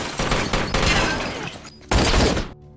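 A gunfight in an action film, rapid bursts of loud gunfire and crackling shots in quick succession, with a short lull before another heavy burst.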